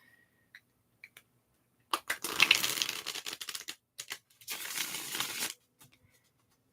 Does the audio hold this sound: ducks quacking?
no